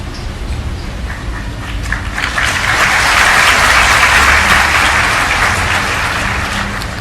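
Audience applause during a Ram Katha discourse, a dense wash of many hands clapping that swells and holds loudly before easing slightly, with little talk over it.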